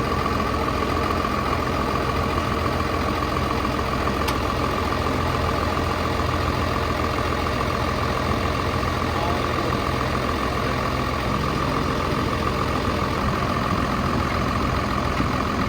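A machine engine idles steadily after firing up, a constant low rumble with a droning hum running unbroken throughout, loud and close, with no talk over it.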